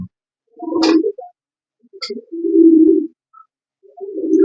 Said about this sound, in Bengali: এই কবুতরটা হচ্ছে ডিরেক্ট গড গিফটের গ্র্যান্ডসন